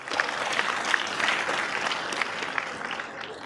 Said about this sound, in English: So one more round of applause for you, those who are sitting here from 9 a.m.